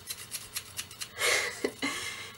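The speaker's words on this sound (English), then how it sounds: "I got my pair of scissors" Scissors cut open a sealed mail package: a quick series of soft, evenly spaced snips, then a louder crinkling rip and rustle of packaging up close, fairly quiet overall.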